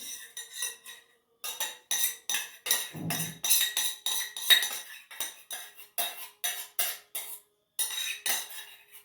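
A spoon scrapes two tablespoons of melted butter into a bowl for a walnut mosaic cake. The sound is a quick run of close, light metallic scrapes and taps in short bursts with small pauses between them.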